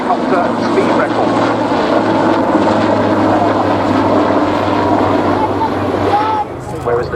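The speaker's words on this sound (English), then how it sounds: "it's a specially modified Lynx that still holds the outright world helicopter speed record" A specially modified Lynx helicopter, a speed record holder, flies at the RAF Cosford Airshow, its engine and rotor giving a loud, continuous, fairly steady roar throughout.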